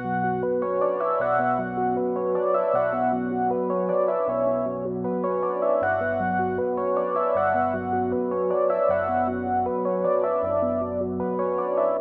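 A June 6 software synth plays an alternative preset with its arpeggiator running, cycling bright plucked notes over repeating low bass tones in a steady loop, loud and clean with no voices.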